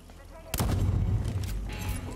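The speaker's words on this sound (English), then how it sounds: "What if I just shoot her from here?" A single loud video game gunshot blasts close up, followed by a decaying rumble, with a bit of voice in the background.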